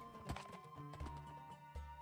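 Horse hooves clip-clopping in Minecraft, a few quick game-sound steps with a couple of heavier thuds, close and moderately loud with no talking.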